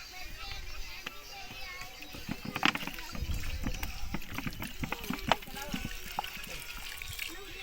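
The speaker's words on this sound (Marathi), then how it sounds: "ह्याच्यात थंड पाणी टाकून घेतले" Cold water is poured into a pot of kurdu greens, giving close, uneven sloshing and splashing with small knocks from the pot, at a low, moderate level.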